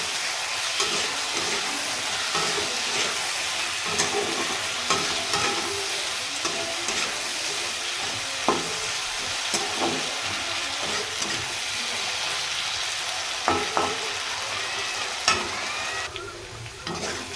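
Potatoes seasoned with turmeric and salt fry in a pan, a steady loud sizzle with frequent scraping stirs and clinks of a spatula, close up with no talking.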